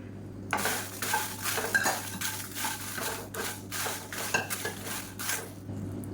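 Dry red chillies, a mix of round and long varieties, stirred in a kadai, heard as rhythmic metal scraping and rustling strokes at a steady pace, close and moderately loud.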